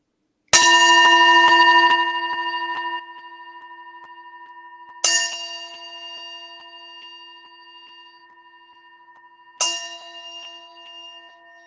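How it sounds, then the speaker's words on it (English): A meditation gong struck three times, each loud ringing hit decaying slowly into a long shimmering hum before the next stroke, about five seconds apart. "I'm going to hit this gong 3 times,"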